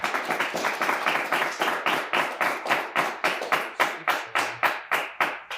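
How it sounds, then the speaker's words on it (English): A round of applause for the players after a Roscommon versus White Cloud quiz match, a small group clapping loudly and close by in a steady, rhythmic pattern with no talk. "Let's have a nice round of applause for all of our players today."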